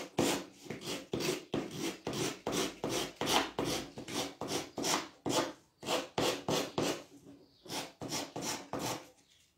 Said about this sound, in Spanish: Un taco de madera me había preparado, sí. Y vamos a ir lijando.